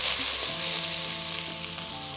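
Steady, close sizzling of ginger garlic paste frying in hot oil, a continuous crackle with faint stirring scrapes underneath.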